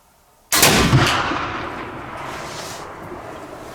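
A black powder gun fires a single shot loaded with 100 grains of Goex powder, a sharp loud blast about half a second in, followed by a long decaying outdoor rumble and echo that fades over several seconds.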